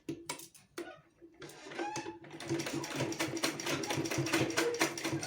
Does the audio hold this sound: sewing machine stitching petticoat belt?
yes